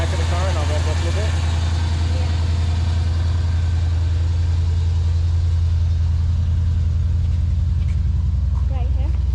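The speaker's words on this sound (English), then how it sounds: "you want to hold this in the back of the car and I'll rev it up a little bit?" A 1968 Plymouth Satellite engine runs loud and close, holding a steady rumbling idle with slight rises in revs, while voices talk nearby.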